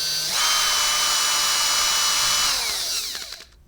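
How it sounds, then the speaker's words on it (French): A power drill pre-drills holes with a roughly 2 mm bit for mounting Batcase quick-release fasteners. The motor whirs steadily and loudly for about three seconds, then spins down and stops, with no talking. "un pré-perçage avec un forêt d'environ 2 mm"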